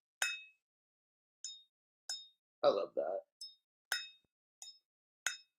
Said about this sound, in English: When you flick a crystal glass and it keeps making the noise.